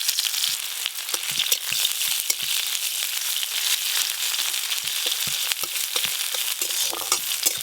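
Chopped onion hitting hot oil with dried red chilli and five-spice seeds, a loud steady sizzle with crackling pops and occasional scraping stirs, close up and without any talk.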